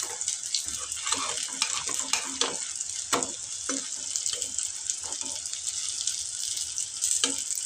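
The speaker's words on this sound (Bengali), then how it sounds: "বড়াগুলো মাশাআল্লাহ সুন্দর কালো কালো করে ভেজে নিচ্ছি" Jackfruit seed fritters deep frying in hot oil, a steady loud crackling sizzle with scattered sharper pops and spatters throughout, no talking.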